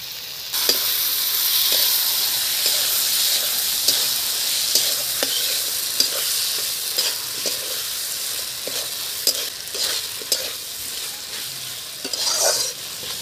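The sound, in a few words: frying cumin, coriander and ginger paste spices in pan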